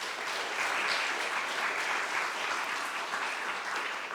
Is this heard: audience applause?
yes